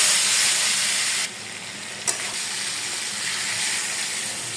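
Potatoes and cauliflower are sautéed in a pan, giving a steady frying hiss that drops quieter partway through and is marked by a single sharp clink of a utensil, without any talk.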